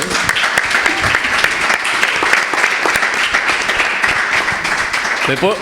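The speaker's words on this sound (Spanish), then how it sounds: "Sí, aplaudid, por favor" An audience applauding at a presentation about the Camino de Santiago at Casa de Galicia, loud sustained clapping throughout with voices talking beneath it.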